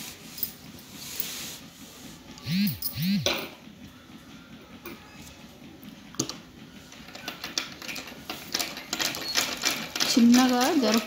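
A sewing machine top stitches a dress neckline in soft, spongy fabric, giving short bursts of close mechanical rattling and whirring that pick up toward the end, while someone talks over and between them.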